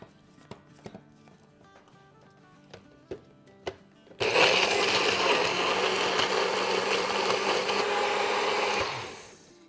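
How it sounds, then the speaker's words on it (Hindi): An electric blender grinds soup ingredients with about half a cup of chicken broth, starting abruptly after a few light clicks and knocks, then running as a loud, steady whir for several seconds before winding down. "तो इसमें अब आधा कप के आसपास हम चिकन ब्रॉथ डाल देते हैं और इसको ग्राइंड करते हैं।"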